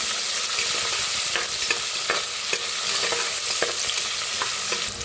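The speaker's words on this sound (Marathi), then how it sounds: "त्याच्यात टाकूया कांदा त्याच्यात टाकूया कढीपत्ता भाजून घेऊया" Onion and curry leaves sizzle and fry in a pan of oil tempered with cumin, mustard seeds and asafoetida for masale bhaat, with steady crackling close up and a few clicks of stirring, no voices.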